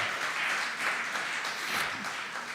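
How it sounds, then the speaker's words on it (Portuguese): Church congregation applauding during a worship service sermon, a steady wash of clapping at moderate level throughout the short stretch, with no pauses. "Você pode aplaudir o Senhor."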